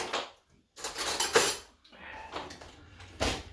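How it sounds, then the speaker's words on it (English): A spoon clinks and scrapes against a dish while filling deviled eggs, giving a few short, close metallic taps and rattles separated by brief pauses. "Now, I've got to fill these up. I had to use a spoon."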